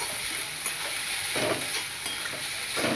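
Shredded cabbage and mixed vegetables stir-fried for veg fried rice, a constant close hiss of frying with a few thumping tosses of the spatula, with no talk.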